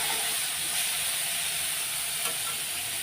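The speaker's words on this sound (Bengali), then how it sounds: "এখন এটাকে আগে ভেজে নেব।" Cumin powder and green chili paste fry in leftover fish oil, giving a steady, soft, even sizzle with no talk.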